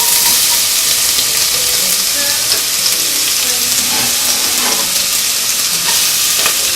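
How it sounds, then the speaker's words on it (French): Shallots sizzle and spit steadily in hot olive oil as they sauté at the start of a wild mushroom cream soup, a close, continuous frying hiss with small pops and occasional stirring and no voices. "Après avoir tranché ça, je vais faire revenir dans l'huile d'olive."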